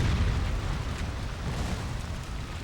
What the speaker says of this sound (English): just throw grenades and pray that these work